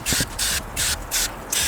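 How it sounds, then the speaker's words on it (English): Cleaning foam is sprayed onto car carpet in quick repeated bursts, about five short hissing squirts close up with brief pauses between them. "we are spraying the foam all over the surface area of the carpet"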